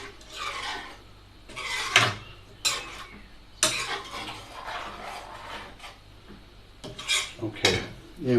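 Cooked chicken kadai and rice are ladled onto a plate, with repeated scraping and clattering of a utensil against pan and plate in uneven bursts, close up, with no talking.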